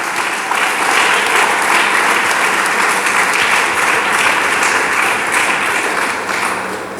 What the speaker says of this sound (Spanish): Dele palmas al Dios del cielo.